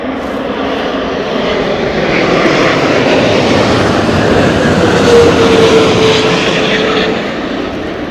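An airliner lands at Heathrow Airport in strong, gusty wind during Storm Nelson, a continuous loud roar of jet engines and wind rumble that swells slightly in the middle with a faint whine, no talk.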